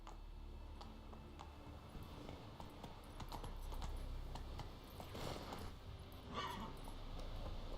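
A horse's hooves clip-clop at a steady walking rhythm in The Witcher 3 video game, fairly faint against a constant background ambience.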